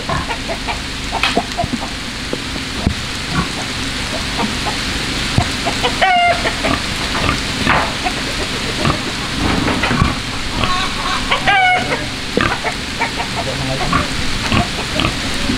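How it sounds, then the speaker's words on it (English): Chickens cluck and squawk continually at close range on a farm while hogs are loaded into a trailer, with grunting, clattering and some talking mixed in. "All the chickens."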